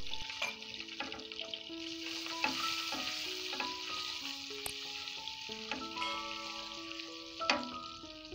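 Garlic frying in oil with turmeric for a Gilan-style Mirza Ghasemi sizzles steadily and close, with a few sharper crackles, under a melodic music bed and no talking.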